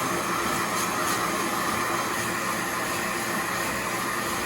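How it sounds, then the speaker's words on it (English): A Bissell Little Green Machine runs with a loud, continuous motor whine and rushing suction as it pulls a stain out of a couch, steady and close throughout. "I'm going to turn on the machine. Hold it an inch, right? And then suction."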